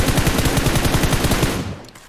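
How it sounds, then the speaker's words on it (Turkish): Sustained automatic gunfire in PUBG Mobile, a rapid, loud burst emptying a full magazine for about two seconds, then cutting off abruptly. "Bir şarjör mermi attım ya."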